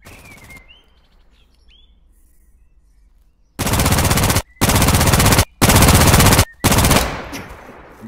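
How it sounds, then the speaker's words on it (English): Automatic gunfire in a video game: a quiet stretch with faint chirps, then three long, loud, dense bursts of rapid fire with short gaps, trailing into a decaying echo. "I hear the gunshots from here."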